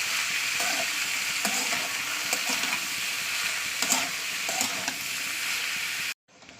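Potatoes fry in a pan with onion, salt and turmeric, a constant bright sizzle broken by the scrape of stirring. It stops abruptly just before the end.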